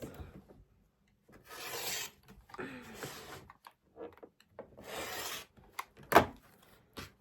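Rotary cutter or blade rasping through cotton quilt block fabric as it is trimmed to size on a cutting mat, several short scraping strokes, close but fairly quiet, with small taps and handling noises between them.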